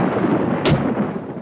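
Cartoon thunder rolls before rain: a low, continuous rumble with one sharp crack in the middle, loud and near, with no voices.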